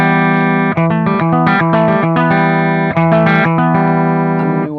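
An electric guitar plays through a Bogner Ecstasy Red amp with the pedal off, giving a dense, sustained, driven chordal riff with quick rhythmic chord changes and brief dips, loud and close, with no talking.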